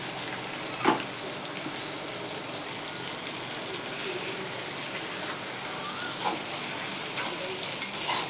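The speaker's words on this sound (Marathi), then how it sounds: "हे आहे नुसतं तेल मसाल्यावर ते कारलं छान परतू द्यायचं" Bitter gourd stir-frying in oil with ground spices over a low flame gives a steady sizzle, close and moderately loud. Occasional spatula scrapes and taps against the pan come through, and no one speaks over it.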